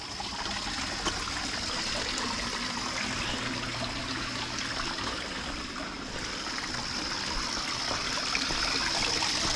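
Excess dirty water drains out in a steady trickle and splash, a quiet continuous pour with no talk over it.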